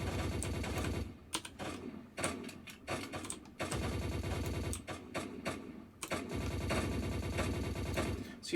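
Rapid automatic gunfire in the shooter game GameGuru MAX comes in fast mechanical bursts broken by short pauses, loud and close, with no talking.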